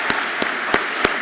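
Sparse clapping at an alumni awards ceremony: four separate distinct claps spaced evenly about a third of a second apart over a steady roomy hiss, close and crisp rather than a full crowd.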